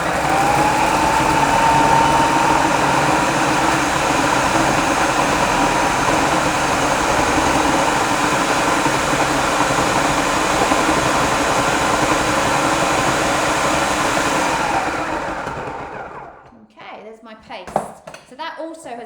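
A food processor whizzes oats and sunflower seeds into a soft, sticky flapjack paste, a loud, steady, close motor roar that runs continuously before cutting off near the end, followed by a few clinks.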